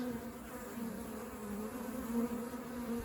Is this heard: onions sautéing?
no